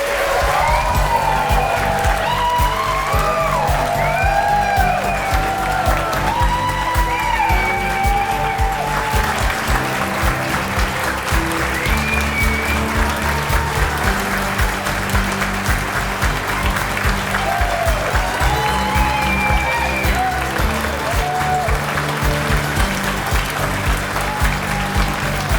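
Audience applause at an awards gala honoring Tim Powers with a lifetime achievement award, sustained steady clapping over music with a bright melodic line, lasting throughout without voices.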